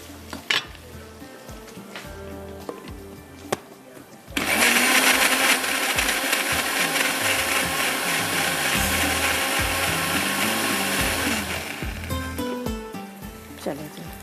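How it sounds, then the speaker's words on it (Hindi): A blender grinds tomatoes in a loud, steady whirring burst lasting several seconds before it winds down. Clicks and handling noises come before it, and a voice is heard faintly. "इसको टमाटर को हम पीस लेते हैं"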